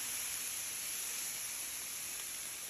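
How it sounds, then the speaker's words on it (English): Vegetables steam under a cover on a Blackstone griddle, giving a constant, even sizzling hiss with a small knock at the very end. "then I'm gonna cover them and let them steam for a little bit"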